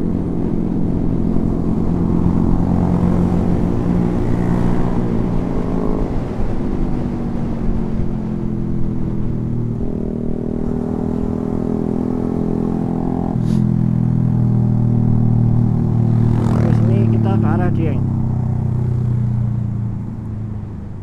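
A group of about twenty motorcycles riding together on a Sunday morning ride, a loud continuous engine rumble with shifting tones as bikes pass close by.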